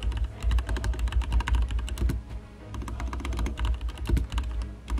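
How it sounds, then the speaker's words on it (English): Fast, steady typing clatters on a computer keyboard during a game tournament broadcast, sounding loud and close as a continuous run of sharp key clicks. "Sorry for the typing."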